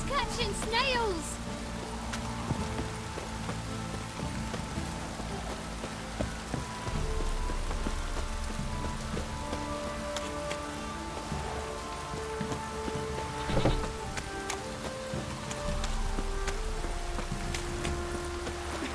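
Heavy downpour in The Witcher 3 game, a steady wash of rain drumming on surfaces throughout, with game music and occasional voices layered over it.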